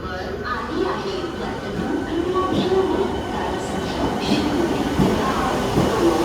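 Loud, steady rumble of a moving train heard from inside a carriage, with a continuous low roar and occasional faint squeals.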